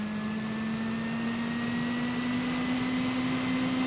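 Stock Intel CPU cooler fan spinning at 100%, about 3000 rpm, a loud, constant roaring whine with a steady hum that creeps slightly upward in pitch, no voices.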